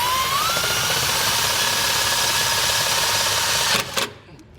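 A power drill whines steadily and loudly at close range while driving a self-tapping screw into a 2020 Ford F-150 chassis, then cuts off with a couple of clunks.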